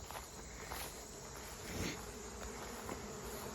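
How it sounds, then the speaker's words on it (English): Dense swarm of bees buzzing around a beehive, a continuous close hum with individual insects passing near and fading, with a faint scuff or two in the background. "Look at all these bees, gosh."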